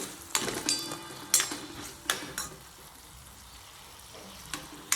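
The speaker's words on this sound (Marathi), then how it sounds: "मीठ टाकून चांगली परतून घेतली" Vegetables stir-fried with salt in a pan give a faint, steady sizzle, broken by a few sharp clicks of a spatula against the pan at irregular intervals.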